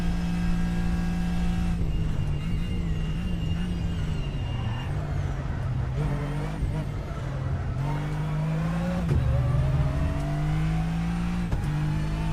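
A GT3 race car at Monza in a racing video game: a loud, close engine drone that rises and falls as it revs up through the gears and drops on the shifts, with no talking.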